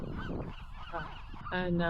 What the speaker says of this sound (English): listen to the birds, obviously, because that's all I got